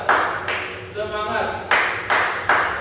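A group performs a rhythmic chant-and-clap routine: three sharp, evenly spaced claps, a brief shouted voice, then three more claps, loud and close in a room.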